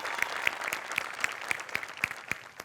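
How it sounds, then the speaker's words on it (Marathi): Audience applause at a comedy show, with close, sharp hand claps in a brisk, steady rhythm over a soft crowd wash, lasting only a few seconds. "पुन्हा एकदा जोरदार टाळ्या."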